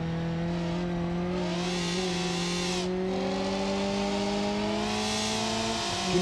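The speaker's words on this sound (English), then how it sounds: "Can you guys hear the power difference between these two cars?" Race cars lapping a track in practice, their engines holding a loud, steady high-revving drone with rising and falling pitch as they accelerate, close by and continuous.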